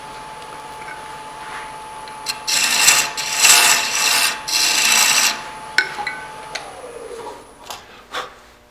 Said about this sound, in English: I'm going to take a small bowl gouge and just clear out the rest of that inside debris